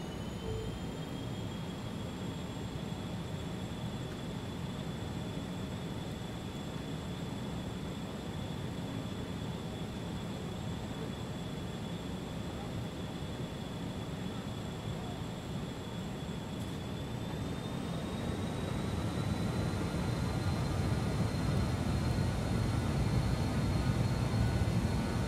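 A BAE 146-100 jet in Microsoft Flight Simulator 2020 spools up for takeoff, its steady engine roar and high whining tones holding evenly, then rising in pitch and loudness toward the end, with no voices.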